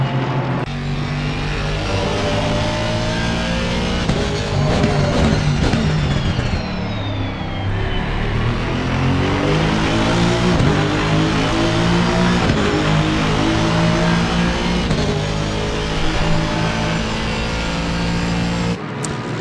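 An Aston Martin GT3 race car engine in a racing video game at Laguna Seca roars and revs continuously, pitch climbing and dropping through gear shifts, loud and close with no talking.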